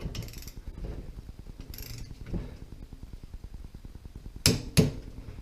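A torque wrench tightening bolts on a VIAR 480C compressor during a rebuild, giving soft rapid ratcheting clicks throughout, followed by two sharp metallic clicks near the end as it reaches torque.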